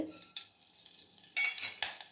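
Mustard seeds pop and crackle in a little hot oil in sharp bursts while making mango pachadi, mixed with a light sizzle and the scrape of a utensil in the pan.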